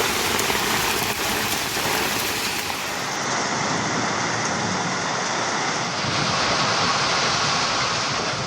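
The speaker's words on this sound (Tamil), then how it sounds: "கோவை மாவட்டம் வால்பாறையில் ஆலங்கட்டி மழை." Heavy rain with hail pelting down in Valparai, Coimbatore district, a dense, steady hiss and patter that stays loud and unbroken throughout with no voices.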